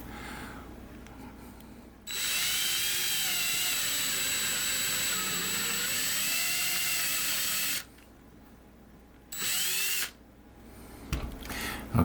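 A small power drill bores a hole in a model ship part, a high steady whine running for several seconds, stopping, then a second brief burst, with light handling clicks at the end.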